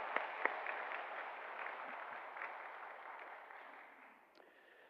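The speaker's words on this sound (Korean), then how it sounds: "우리 시온 성가대를 위해서 한번 격려의 박수 한번 할까요?" A church congregation applauds the Zion choir after a Sunday service performance, a steady, fairly soft wash of many hands clapping from across the room, tapering toward the end.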